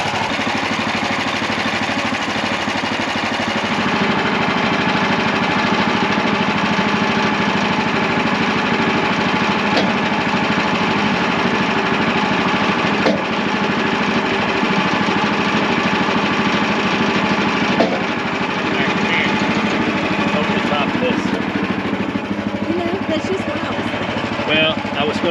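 Sawmill running and cutting lumber into boards in a woodyard, a loud steady mechanical drone lasting the whole stretch with a few brief clunks.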